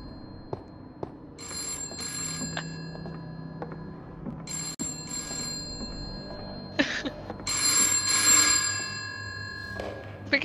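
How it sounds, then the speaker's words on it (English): Telephone ringing in the video game Before Truth, repeated bursts of a bright electronic ring separated by short pauses, with game ambience and clicks between the rings. "Pick it up, pick the phone up"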